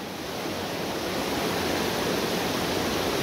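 Powerful river current rushing steadily, a loud broadband roar of flowing water that stays constant and close throughout with no voices.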